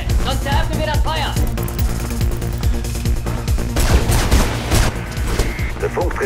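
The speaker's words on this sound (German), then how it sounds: "Ich höre Schüsse" Rapid bursts of gunfire crackle and pop amid sharp impacts and background sounds in the opening of the video game Mirror's Edge, with overlapping chaotic noise throughout.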